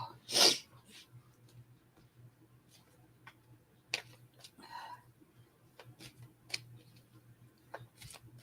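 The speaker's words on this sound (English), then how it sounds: "Was my daily sneezing fit?" A single sharp, loud sneeze bursts out near the start, followed by a quiet room with faint scattered ticks and small clicks.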